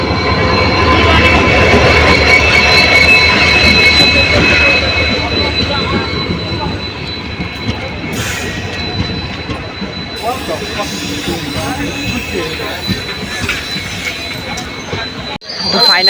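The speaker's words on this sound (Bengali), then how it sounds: "ফাইনালি এখন হচ্ছে ট্রেন চলে আসছে" A train pulling into a station on the Siliguri–Thakurganj line, a loud, heavy roar that gradually fades and settles as it slows, with people talking nearby.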